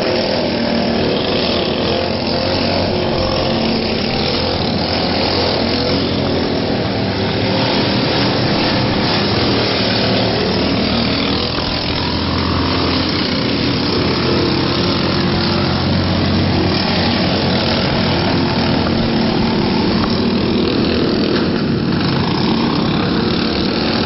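A racing lawnmower tractor, number 529, drones loudly and steadily throughout at a 2011 Bash for Cash lawnmower event, with the engine roar constant and up close and no talk.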